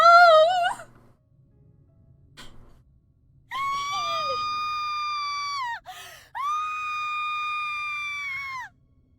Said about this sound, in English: Good screams, good screams.